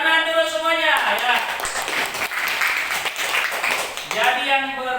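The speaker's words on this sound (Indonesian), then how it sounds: "Tepuk tangan dulu semuanya ya." Group of students clapping hands together in a classroom lesson, a short burst of applause set between spoken voices at the start and end.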